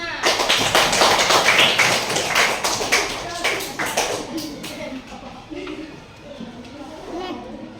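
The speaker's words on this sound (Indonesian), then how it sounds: "Tepuk tangan untuk Reza, Nana" Children in a classroom clapping their hands, a burst of quick, uneven claps that loosens into scattered taps, with young voices and shuffling underneath.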